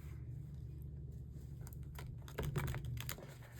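Playing cards shuffled during a tarot or oracle card reading, a soft papery riffling and clicking that runs throughout, growing slightly louder toward the end, with a steady hum underneath.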